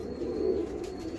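Golden pigeon with grey feathers and golden wing coverts giving a brief low coo, close and soft over faint background noise.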